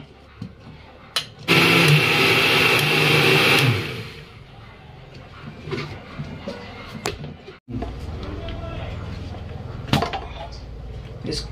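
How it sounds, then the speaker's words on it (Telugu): A kitchen mixer grinder roars loudly for about two seconds while blending coriander and mint for Hyderabadi biryani. It then stops, and quieter handling clatter and a voice talking follow. "కొంచెం మిక్సీ పట్టేస్తే ప్రతి ముక్కకు తగులుతుందని మిక్సీ చేసుకుంటున్నా"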